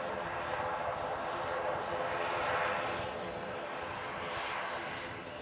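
An ATR turboprop airliner touching down in gusty wind gives a moderately quiet, steady engine drone that swells slightly midway and then fades, with a commentator's voice speaking over it.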